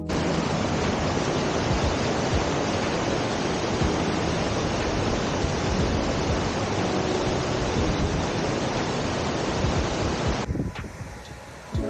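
The main waterfall at Cascade Park's Big Run Falls in New Castle, Pennsylvania, about 20 feet tall and seen from a roadside lookout, gives a steady, broad rushing roar. The roar fills the scene and cuts off near the end.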